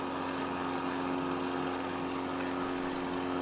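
Plane engines in Microsoft Flight Simulator 2020 keep up a steady, even roar carrying a prominent tonal hum, constant in loudness from start to finish and heard alone.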